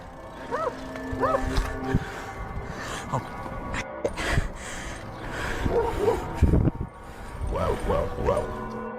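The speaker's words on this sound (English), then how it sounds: "he hears barking behind him and the chase is on again" Dogs bark repeatedly in short, rising yelps, several overlapping over a noisy, rumbling background.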